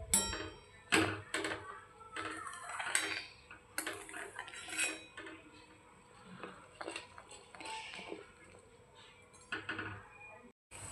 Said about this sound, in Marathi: यासाठी आपल्याला तूप हलवत राहणं गरजेचं आहे.